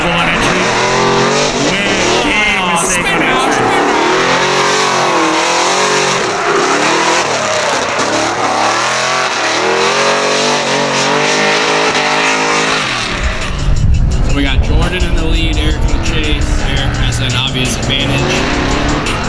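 Drift cars in an MMDC Matsuri callout competition battle roar loudly and continuously, engines revving hard with tire squeal and skidding, a commentator talking over the run throughout.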